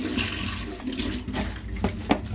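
Running water pours over a Casio G-Shock GA2100 watch under a tap, a close, steady splashing rush with a few small clinks and spatters.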